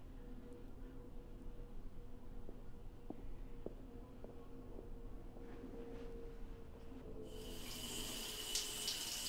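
Shower water running steadily as a continuous hiss throughout, growing brighter and louder near the end, in a bathroom scene from a short film.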